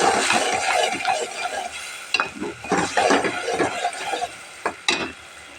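Radish and puti fish fry in a pan, sizzling steadily while a spatula stirs and scrapes through them in irregular strokes, close and fairly loud with no talking.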